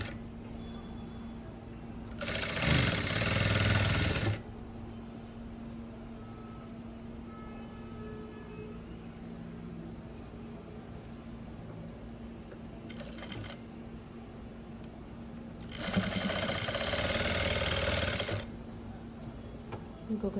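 Sewing machine stitching an umbrella-style dress, two loud steady runs of rapid mechanical whirring, a few seconds each, separated by quieter room noise.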